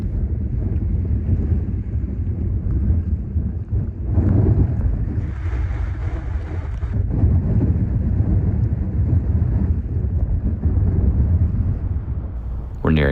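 Strong 40 mph wind on a New Jersey bay during a boat run, a constant roaring buffet of wind across the microphone mixed with water and hull noise, loud and unbroken.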